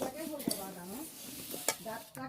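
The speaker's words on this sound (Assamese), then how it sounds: "এয়া আমাৰ মামীয়ে সেই তিল ভাজি আছে তিলৰ পিঠা বনাবলৈ" Sesame seeds being roasted in a pan for sesame sweets, with faint sizzling and scraping strokes of stirring under quiet background voices.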